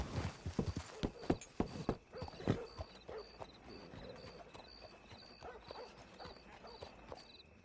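Horse hooves clop in an irregular walking rhythm in Red Dead Redemption 2, loud at first then softer, over a steady background with a repeating faint high beeping pattern.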